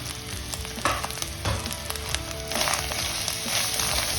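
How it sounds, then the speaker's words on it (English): Cumin, coriander and chili powder frying in hot oil for a dal tadka, a steady close sizzle with occasional stirring scrapes, growing slightly louder toward the end. "And fry it nicely."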